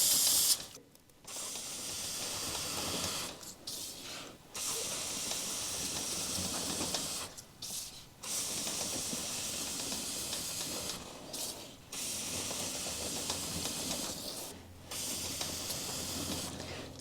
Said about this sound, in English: spray one entire pass of the chain on the inside edge and then another pass on the outside edge